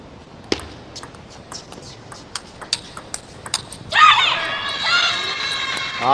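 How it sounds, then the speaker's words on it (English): A sudden burst of loud crowd cheering erupts after several sharp table-tennis ball pings at a women's singles quarterfinal of the 2025 Asian Championships, sustaining to the end. "That's a loud cheer up by Hina Hayata."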